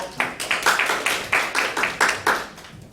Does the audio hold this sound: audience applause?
yes